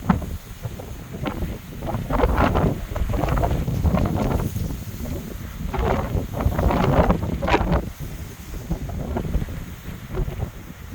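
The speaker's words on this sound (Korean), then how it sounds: "바람이 무지무지하게 붑니다." Strong gusty wind blasts across a snowy hilltop on Jeju, buffeting the microphone in loud, rumbling surges that rise and fall in waves, with no speech heard.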